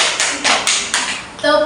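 A classroom of children clapping in a counted rhythm, four sharp near claps in a row followed by a voice starting to speak.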